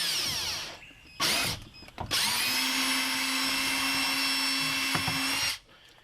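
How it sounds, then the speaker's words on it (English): A power drill with a 9/32 bit whines up in short bursts, then runs steadily at high speed for about three seconds drilling through, before spinning down and stopping. "just slowly drill it through"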